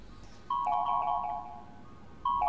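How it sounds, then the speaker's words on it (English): An electronic telephone ringtone in a horror video game sounds in two loud, close bursts of repeating tones, separated by a brief gap, with no voices. "let's answer this fucking phone then"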